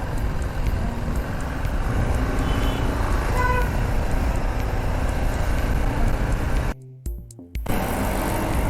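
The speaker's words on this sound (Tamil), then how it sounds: "கடைசியில் பார்த்தா சரியான டிராஃபிக்காக இருக்குது" Busy road traffic heard from a moving vehicle makes a constant loud rumble, with a faint car horn tooting briefly partway through before the noise drops out abruptly for a moment.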